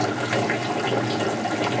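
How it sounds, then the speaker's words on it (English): Water drains from an aquaponics system reservoir down into the grow barrels, a steady close rushing and gurgling flow that holds even throughout without voices. "the water in the reservoir is draining down and flooding the barrels"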